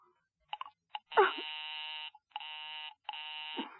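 A telephone busy signal pulses in repeated steady tones with short gaps, fairly faint through the handset, with brief clicks and a small vocal sound between.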